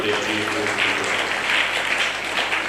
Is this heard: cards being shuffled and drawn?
no